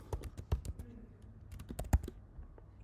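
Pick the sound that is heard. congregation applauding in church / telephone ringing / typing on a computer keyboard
typing on a computer keyboard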